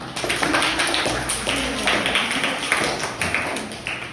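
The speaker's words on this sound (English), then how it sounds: "A big round of applause, everyone." Audience at an Independence Day celebration breaking into sustained applause, many hands clapping in a dense, steady patter with sharp individual claps standing out, heard alone without talk.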